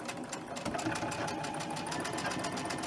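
A sewing machine runs steadily, chain stitching a mini Christmas tree wall hanging with a continuous close whirring hum throughout.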